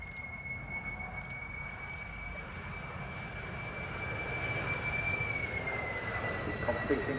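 A DHL Boeing 767-300 cargo jet with General Electric CF6 engines flies a display at an air show, a steady distant engine roar with a thin whine that swells slightly louder, while a commentator talks over it.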